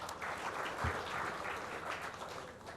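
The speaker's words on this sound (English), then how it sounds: "Can we have a big round of applause?" Applause from an audience at an award function, a steady wash of many hands clapping together, fairly faint and distant for a few seconds without speech.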